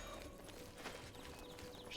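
Horse hooves clip-clop in a steady trot in the video game Oblivion, moderately close and heard alone without talk.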